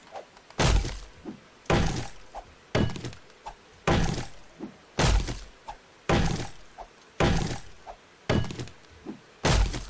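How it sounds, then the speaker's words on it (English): A fire axe chopping in the survival game 7 Days To Die, with about ten heavy, evenly spaced thunking blows, each a loud close impact with a short splintering decay and no talk between them. "Actually, we'll use a fire axe for this."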